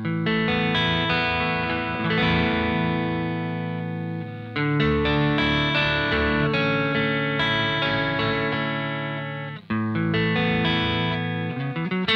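Heavily distorted chords and riffs ring out from a Suhr electric guitar, its humbucker split to single-coil mode, through a distorted single-channel amp. The playing is loud, dense and sustained, with one brief break.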